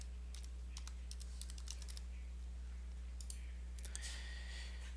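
Soft, quiet keystrokes on a computer keyboard come in short bursts of clicks as a username and password are entered, with a steady low electrical hum underneath.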